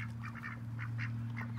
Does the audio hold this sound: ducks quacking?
yes